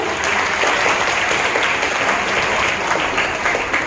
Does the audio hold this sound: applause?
yes